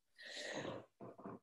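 A single close, breathy sneeze with a drawn-out burst followed by two short sniffling exhalations, fairly quiet.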